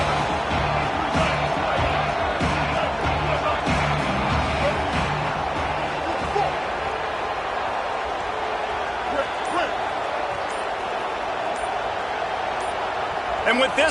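A loud, roaring stadium crowd at a college football game between the Canes and Bama, with a dense wash of cheering that holds steady before easing slightly; an announcer speaks over it.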